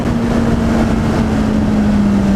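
A Kawasaki Z800e motorcycle engine drones steadily and close, holding a nearly constant pitch that sags slightly, with wind rush over the whole ride.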